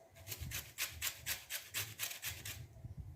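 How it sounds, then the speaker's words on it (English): Citrus peel, lemon or orange, is scraped over a grater in quick, even rasping strokes, about ten close scrapes in a row that stop near the end, with no talking. "So enjoy as you make the zest now."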